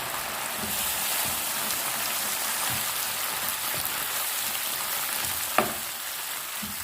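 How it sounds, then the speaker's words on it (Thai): Clams sizzle in a wok as they are stir-fried with oyster sauce and fresh basil, a dense, even crackle like rain, broken by soft scrapes and one sharp click of the utensil. "ผัดให้โหระพาสลบนิดนึงนะคะ"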